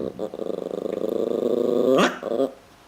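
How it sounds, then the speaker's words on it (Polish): A dog growls low and continuously, building into a sharp bark near the end, close by and fairly loud. "Dlaczego coś tak szczeka?"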